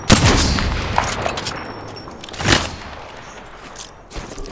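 Gunfire in Apex Legends, sharp shots clustered at the start, then a louder boom midway and further scattered reports, with no voices.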